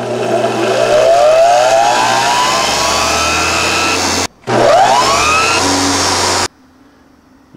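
A treadmill motor running on 120 volts DC spins up fast with a loud, rising whine that climbs in pitch, drops out briefly, then whines up again before cutting off to near silence.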